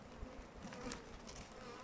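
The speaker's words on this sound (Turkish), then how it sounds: "Yani kovan girişindeki 5-6 tane arı dışarıdan gelen bir kovan arıya mücadele edebilir." Honey bees buzz steadily around a hive entrance outdoors, a continuous dense drone of many wings held at a faint, even level for the whole stretch with no talking.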